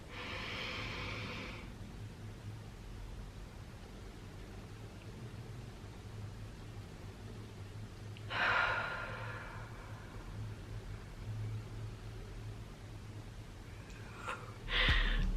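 A person does a 4-7-8 breathing exercise: a soft, close inhale, a long quiet hold, then a breathy exhale, followed by another short breath at the end.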